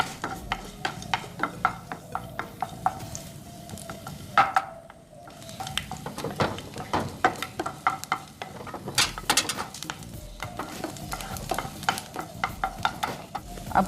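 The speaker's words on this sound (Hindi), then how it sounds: "फ्राई पैन रखेंगे, थोड़ा तेल डालेंगे, लहसुन डालेंगे, उसको अच्छी तरह से चलाएंगे।" Garlic sizzles in oil in a frying pan while a utensil scrapes and stirs repeatedly, close up, with a short pause midway and no speech.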